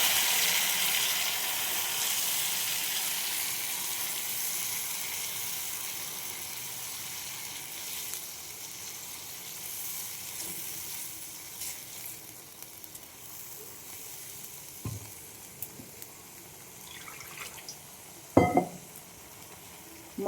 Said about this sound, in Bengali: মশলাটা আলুর সাথে কষিয়ে নেব।